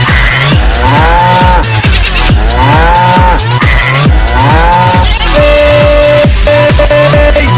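A cow moos over and over in a loud, close, regular rhythm of drawn-out bellowing calls, with no talk.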